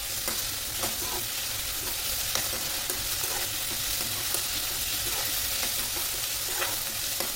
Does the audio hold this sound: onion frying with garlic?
yes